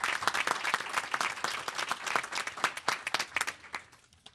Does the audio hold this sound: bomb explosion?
no